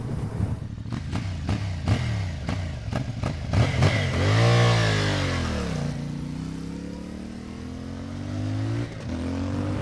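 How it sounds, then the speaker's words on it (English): CF Moto Ibex parallel-twin motorcycle exhaust barking through several quick revs, then swelling into a long, loud acceleration that fades and settles back toward a steady drone. "This exhaust is loud enough to be omnipresent, yet quiet enough to be inoffensive"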